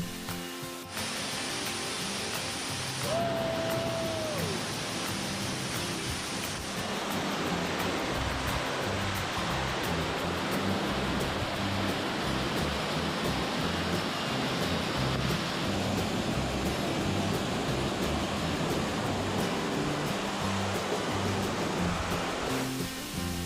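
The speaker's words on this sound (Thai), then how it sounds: "เราสามารถนะครับเดินเข้าไปใกล้น้ำตกนะครับ" Salad Dai waterfall in Nakhon Nayok, swollen in the rainy season, produces a loud, steady roar of rushing, splashing water heard up close throughout, with a brief higher tone early on.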